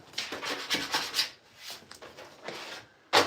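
A scraper rubs and rasps across a skateboard deck press in a series of uneven scraping strokes, close and moderately loud, with short pauses between passes and a sharper final scrape.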